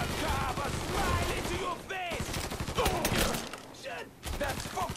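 Enemy gunfire in Mafia III rattles in dense, continuous bursts and volleys, loud and close, with a voice talking over the shooting.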